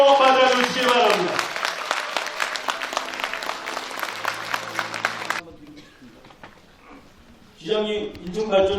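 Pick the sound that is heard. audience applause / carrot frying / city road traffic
audience applause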